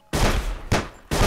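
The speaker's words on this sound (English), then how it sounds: "take a few pot shots at the hunters" Three loud gunshot blasts ring out in quick succession, each a sharp crack with a long noisy tail, fired at hunters in the survival video game Sir, You Are Being Hunted.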